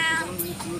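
A hungry cat meows, a short single call rising out of a steady background hum, fairly close.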